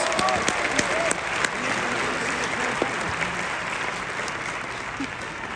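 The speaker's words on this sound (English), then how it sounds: "give them a lovely round of applause" A theatre audience at a live talent-show event applauds people coming up to the stage. The clapping is dense and sustained, starts loud and eases off gradually, and the crowd murmurs beneath it.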